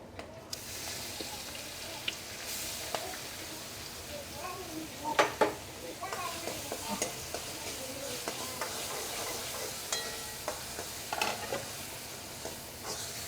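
Chopped onions with cumin and whole spices sauté in hot oil for matar paneer, a soft steady sizzle broken by scraping stirs and occasional pan clinks, fairly quiet and close.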